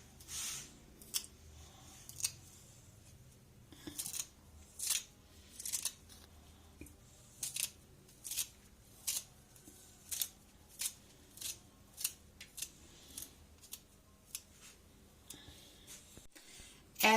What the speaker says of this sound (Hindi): सब्ज धनिया भी हमने इसी के अंदर इस तरह से काट लेने।